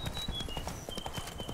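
Roach the horse trots in Witcher 3: Blood and Wine, hooves clopping in a quick steady rhythm on the ground, close and clear throughout with a faint background.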